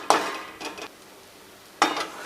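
Spatula stirring lapsi, cracked wheat roasting in ghee in a pan: three distinct scraping strokes, close and fairly loud, separated by quiet gaps.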